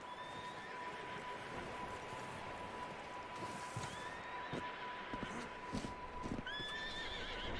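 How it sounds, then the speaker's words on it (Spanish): Horse in Red Dead Redemption 2 whinnying several times near a barn, high rising neighs scattered over a steady background of hooves and ambience, with a few sharp knocks and clatters toward the end. "Hay un caballo relinchando ahí a tope,"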